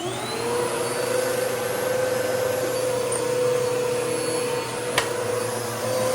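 A Bissell vacuum cleaner runs close by, a steady loud whine with a droning motor hum that holds level throughout, with one sharp click near the end.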